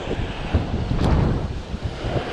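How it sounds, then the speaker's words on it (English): Gusty crosswind buffeting the microphone on a blustery day while fishing from a boat near water, a steady rough low roar with surging gusts throughout, no talk. "Developed a bit of a crosswind here now."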